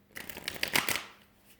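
A deck of tarot cards is shuffled close by in one quick riffle lasting about a second, a soft rapid fluttering that swells and then trails off into quiet.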